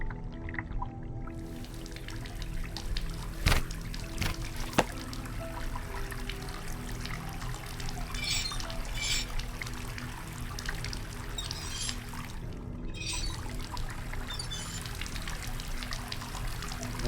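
Tap water runs in a steady, moderate stream inside the horror game Asylum, a continuous pouring hiss with a few brief clicks and no talk over it.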